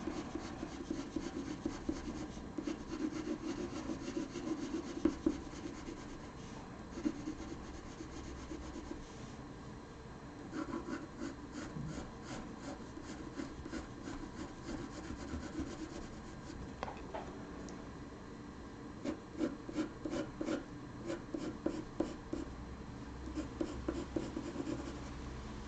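Colored pencil in ivory shades across paper with a soft, continuous scratchy rubbing, faint and close, with bursts of quicker strokes.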